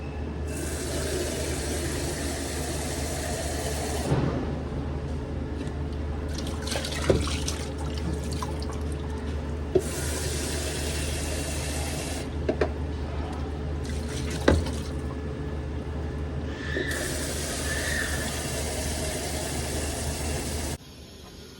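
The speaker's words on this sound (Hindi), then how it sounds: "मेरी मशीन की क्लीनिंग चल रही है" A washing machine running a cleaning cycle fills with water in several long gushing bursts over a steady hum, with clunks and thumps between the bursts and no talk.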